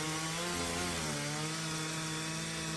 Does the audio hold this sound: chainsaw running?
yes